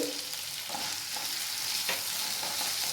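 Potato pieces sprinkled with salt fry in a pan, giving a steady, close hiss of sizzling oil with faint crackles and a brief stirring scrape, continuous throughout.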